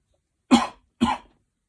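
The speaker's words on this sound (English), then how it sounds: "I just kind of had to cough" Two short, close coughs in quick succession, each a sharp burst, separated by a brief pause in otherwise quiet surroundings.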